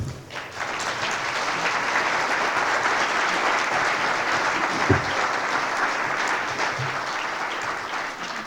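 Sustained audience applause at an awards presentation, a dense steady wash of clapping across a large room that holds at an even level throughout, with no voices standing out.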